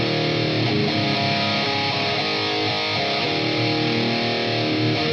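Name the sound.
distorted metal electric guitar with reverb between two cabinets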